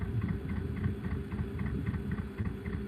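A narrowboat engine, called Old Smoky, idles with a steady, rhythmic low thudding beat and faint ticking, close and unbroken.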